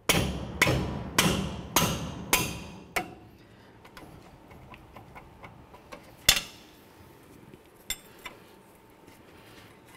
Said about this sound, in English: remove our two 18 millimeter mounting bolts for our caliper. Just take a wrench.